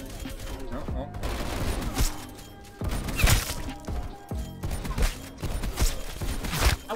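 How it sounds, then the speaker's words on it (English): An enemy sniper fires in Call of Duty Cold War amid a steady mix of other game gunfire, with bursts of cracks and rattling shots layered with clattering effects. "Enemy sniper shooting."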